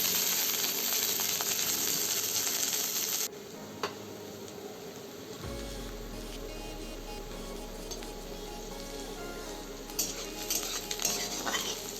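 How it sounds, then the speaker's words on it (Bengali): Onion and ginger fry lightly in a pan, a soft low sizzle beneath frequent metal utensil clinks and scraping as the pan is stirred, with no talking. "এইবার আমি পেঁয়াজ আর আদা হালকা করে ভেজে নেব।"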